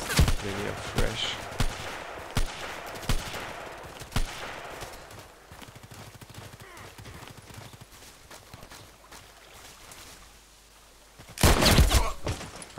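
Sniper rifle fire in the online shooter Contract Wars: several sharp, separate gunshots spaced a second or so apart over a low background, then a louder burst of shots near the end.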